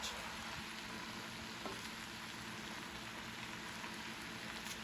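Several teaspoons of butter melt into Southern fried cabbage dressed with vinegar, producing a faint, even, continuous sizzle like light rain, with no speech over it.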